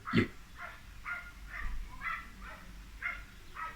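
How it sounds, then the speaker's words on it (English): A dog barks in the distance, a steady series of about seven evenly spaced short barks, faint and alone, with no talking. "I hope that's a dog, not a child."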